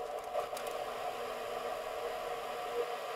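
Server room hum at an Atlantic internet cable landing site, a steady broadband hiss with a low tonal drone, even and unbroken throughout, with no talking.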